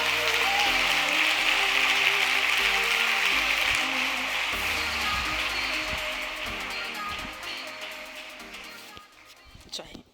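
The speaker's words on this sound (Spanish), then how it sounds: "Un aplauso." Audience applause at an emotional well-being congress in a university hall, dense sustained clapping from a large crowd that fades out near the end, followed by a few faint sounds.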